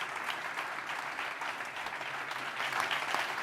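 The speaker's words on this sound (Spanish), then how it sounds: "Un aplauso para ella." Steady, dense applause from an audience, sustained throughout at an even level.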